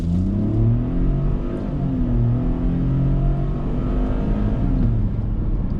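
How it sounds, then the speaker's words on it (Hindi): A Ford Bronco Sport's 1.5-litre engine accelerating hard from a launch, a loud continuous droning rumble with rising engine tones heard from inside the car, steady throughout. "इंजन नॉइस सुना होगा, काफ़ी रिफाइन नहीं लग रहा"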